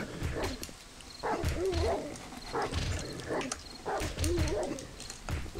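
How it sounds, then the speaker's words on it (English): A pack of wolves in the video game 7 Days to Die whines and howls at close range, with rising yelps and growling snarls that come in repeated bursts over a low background. "I found the dog. It's not a dog. They're wolves. It's a bunch of freaking wolves."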